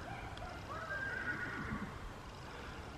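A horse at a barn gives a clear whinny lasting about a second, calling to other horses at moderate distance over steady background noise, with faint hoof sounds.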